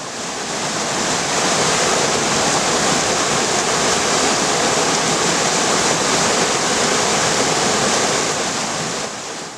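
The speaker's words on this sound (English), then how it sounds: "What I have found is a raging torrent." A raging river torrent in Wales, swollen after days of heavy rain, roars as a dense, constant rush of water, loud and close throughout with no other sounds standing out.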